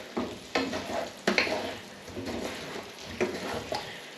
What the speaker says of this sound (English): we're now going to put in the cauliflower. Again, just get that coated with all these spices and juices